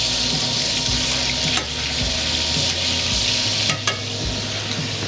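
Lobsters sizzle loudly in a hot pan, a dense continuous crackle and hiss close up with a few sharp ticks from flipping and handling.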